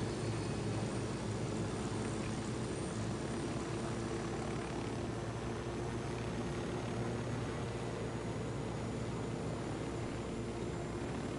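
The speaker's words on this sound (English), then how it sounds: "You can't even spot my helicopter." Helicopter in the video game Ghost Recon Wildlands, a steady continuous rotor and engine drone with low hum that holds at an even level throughout, with no talking.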